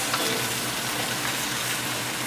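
Chopped onion and shallot fry in a hot pan, a steady dense sizzle that stays loud and close throughout, with no voices.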